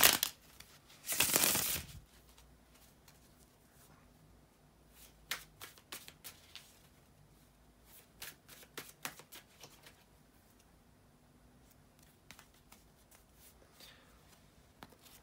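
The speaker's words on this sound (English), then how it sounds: "shuffle the tarot cards" Tarot cards shuffled by hand, a loud burst of riffling near the start followed by scattered soft slaps and taps of the deck, close and quiet with no talk over it.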